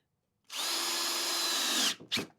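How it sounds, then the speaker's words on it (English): A power drill drives a pocket screw into pallet-wood table legs in one loud, close burst of about a second and a half, followed by a brief second whir, with silence before it. "I'm going to do all four legs with the pocket screws first"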